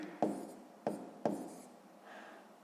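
A pen writes numbers on paper, with a few short scratchy strokes spaced apart and a lighter scribble near the end, close and quiet.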